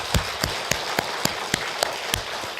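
A church lecture audience applauds the pastor who gave the talk, a steady patter of many hands clapping for a few seconds with no voices over it.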